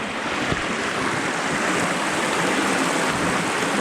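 Creek water rushes steadily and loudly close by as feet rest in the stream, a constant broadband wash with no talking.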